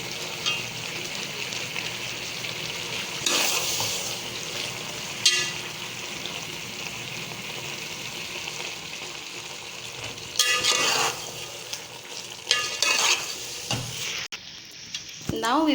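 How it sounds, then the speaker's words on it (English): Boiled spaghetti and chilies stir-fried in a hot pan for hot and sour chow mein, a continuous sizzle with bursts of louder tossing and clattering of utensil against pan, no talking. "Now we will add the spaghettis, which is boiled."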